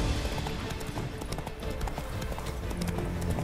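Roach, Geralt's horse in The Witcher 3 video game, trots with rapid, steady clip-clopping hooves, close and continuous over a busy ambient background.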